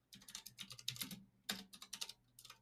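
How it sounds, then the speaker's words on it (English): Rapid, irregular clacking of fingers typing on a computer keyboard, close and fairly quiet, coming in short bursts with brief pauses between. "The keyboard."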